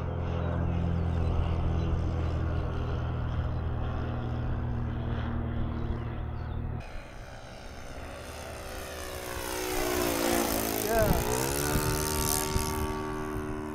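A sport category propeller aircraft flies nearby, its steady engine drone swelling as it passes close overhead, then fading, with light outdoor background.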